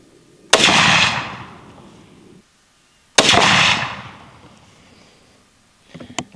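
Two loud, close rifle shots from a 450 Bushmaster firing 225gr FTX ammunition, each a sharp blast with a long echoing tail, spaced about two and a half seconds apart, followed by faint clatter.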